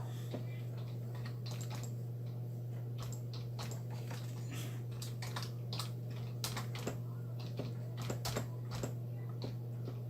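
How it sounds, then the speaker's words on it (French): Typing on a computer keyboard, with irregular bursts of light clicking keystrokes over a steady low electrical hum, faint and close. "Je tape mon texte."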